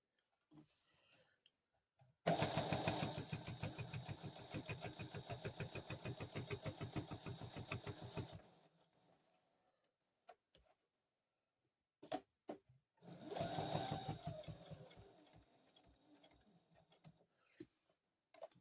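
A sewing machine stitches quilt binding on a table runner in a steady run of rapid needle strokes lasting about six seconds. After a pause it gives a second, shorter burst. The sound is close and quiet, with no talking.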